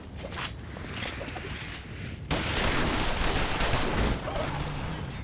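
Gunfire in a Final Fantasy XIV Stormblood cutscene, a dense sustained fusillade that grows louder and heavier partway through and keeps crackling steadily to the end.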